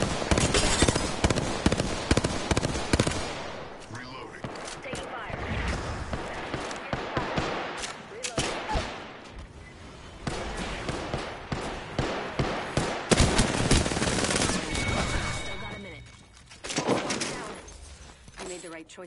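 Video game shooter combat with bursts of gunfire and sharp shots popping repeatedly through the scene, close and fairly loud, mixed with short game voice announcements.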